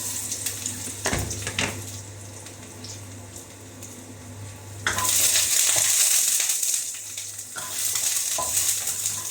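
Garlic dropped into hot oil in a home kitchen, with a light sizzle and clatter at first, then a sudden loud burst of frying crackle that keeps hissing steadily, and occasional utensil clinks.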